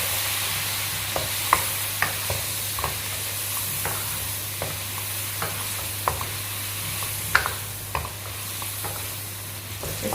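Ground coriander, red chili, salt and turmeric sizzle steadily in hot oil in a pan, with a constant frying hiss broken by regular sharp scrapes and clicks as the spices are stirred.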